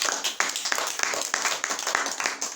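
An audience claps steadily for several seconds, a dense run of overlapping hand claps at a moderate, even level with a few sharper individual claps standing out.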